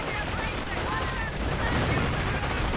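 Grenadiers open fire on riflemen in a World War II real-time strategy game, producing sustained rapid rifle and automatic gunfire with overlapping bursts over dense battle noise, loud and continuous.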